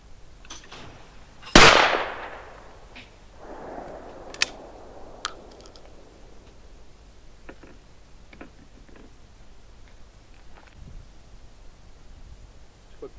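A single loud, sharp blast from a Beretta Silver Pigeon I 20 gauge shotgun cracks out at a hunt in open air, followed by a fading echo and a few faint clicks afterward.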